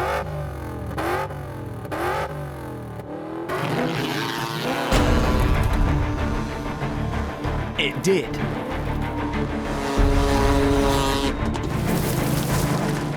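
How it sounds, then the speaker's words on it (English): A jet-powered kayak engine runs and revs, a harsh mechanical roar with pulsing surges that grows louder and steadier partway through, while someone speaks briefly over it. "I still didn't quite believe that a jet-powered kayak would work."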